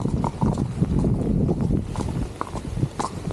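A horse's hooves clip-clop at a steady walk close by, with faint wind buffeting the microphone and no talk.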